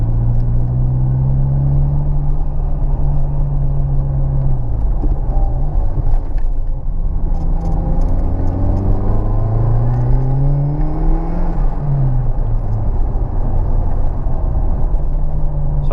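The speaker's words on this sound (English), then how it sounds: "they've got this very distinctive burble noise" A 220 hp Saab 900 Turbo 16-valve four-cylinder burbles steadily from the exhaust while driving, its deep, loud rumble rising and falling in pitch as the revs climb and drop, with no talking.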